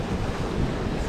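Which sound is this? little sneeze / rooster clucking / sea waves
sea waves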